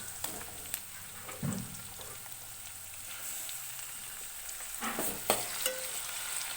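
Onions and tomato frying in hot oil in a pan for chicken fry, a continuous soft sizzle broken by scraping stirs of a spatula and a few clinks, close and without talk.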